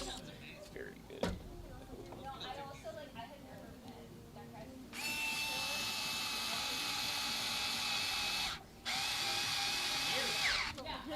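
A DeWalt power drill whines in two long, loud bursts with a brief pause between, fastening shut a plastic robot combat arena at a backyard antweight tournament; quieter talk and background noise come before the drilling.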